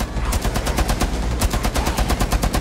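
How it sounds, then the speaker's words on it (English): Rapid automatic fire from a mounted LMG in the Rainbow Six Siege video game, a loud, dense run of evenly spaced shots that keeps going steadily, close up, with no talk over it. "LMG! Mounted and loaded!"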